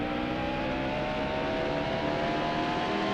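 A stock car engine from NASCAR Heat Evolution drones at a steady high pitch during a lap at Texas, a continuous, even whine of sustained revs with no talk over it.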